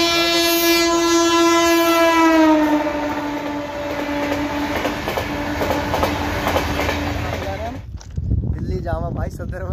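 A passing train sounds a long, loud horn that fades into the rumble and clatter of the wagons rolling past nearby, and voices break in near the end.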